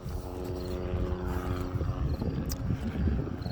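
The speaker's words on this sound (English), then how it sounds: "Oh, police helicopters." A police helicopter passes overhead at night, its steady rotor and engine drone filling the scene at moderate loudness without letting up.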